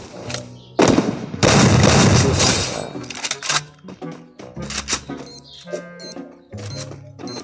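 Gunfire from the Free Fire mobile game: a loud burst of rapid automatic shots early on, followed by scattered single shots and clicks of in-game effects, with faint voices talking intermittently.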